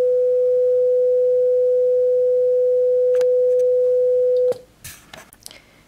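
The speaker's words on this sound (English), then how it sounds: "This first pitch is a sine wave at 500 hertz." A pure 500 Hz sine tone holds perfectly steady for about four and a half seconds, then cuts off abruptly, followed by faint clicks and rustling.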